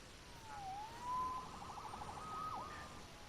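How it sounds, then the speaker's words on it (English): Police siren from the Marvel's Spider-Man video game wails faintly in the distance, its pitch rising and falling across a quiet city background with no talk. "Saved by the siren."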